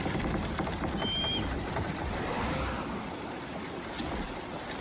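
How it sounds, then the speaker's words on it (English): In the video game Assassin's Creed Shadows, rain falls as a dense, even hiss that fills the whole stretch with no break, with no one speaking. "Just listen to that rain."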